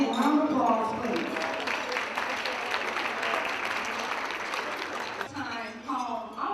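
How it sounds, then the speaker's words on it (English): An audience applauds a speaker being introduced at a talk on going from housing projects to home ownership, a moderate steady clapping that fades near the end, with a voice heard at the start and close. "a big round of applause, please."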